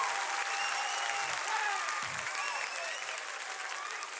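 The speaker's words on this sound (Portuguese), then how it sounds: "uma salva de palmas para esse povo bonito." A church congregation applauds during a sermon, continuous dense clapping heard from a little distance, with brief low thumps showing in two spots.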